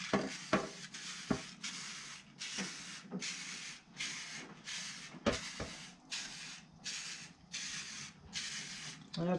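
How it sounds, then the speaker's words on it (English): Repeated bursts of aerosol spray, a series of short hissing blasts separated by brief pauses, close and fairly loud, with no talking. "I spray them with Pam, or, a cooking spray."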